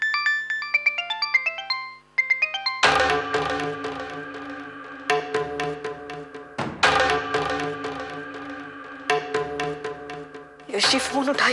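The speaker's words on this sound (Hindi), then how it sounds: "यश जी फोन उठाइए, फोन उठाइए।" A mobile phone plays a melodic electronic ringtone, a quick run of chiming notes followed by louder, fuller musical phrases that repeat with short breaks, close and clear.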